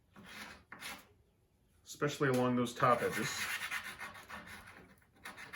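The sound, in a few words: sanding wooden dowels by hand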